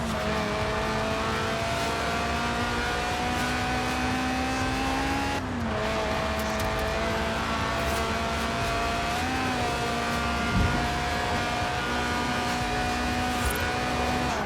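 Mid-engined, rear-wheel-drive Lotus Elise Sport 190, a stripped-out 90s roadster tuned for track days, driving in Forza Horizon 4: a steady, loud engine drone with a brief dip as it shifts midway, then rising again, with no voices.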